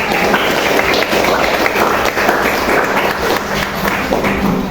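Classroom students clapping for a classmate who read a poem, a loud, continuous patter of many hands clapping close by that runs steadily throughout.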